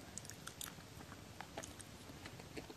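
Skewered dango dumplings from 7-Eleven being chewed close up, soft repeated bites and squishy mastication at a quiet level with no talking.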